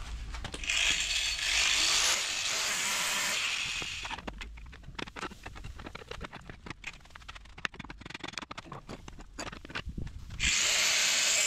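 A power tool cutting on a Toyota repair job, with loud sustained whining bursts at the start and end and a stretch of uneven rattling and clattering between them, heard up close with no speech.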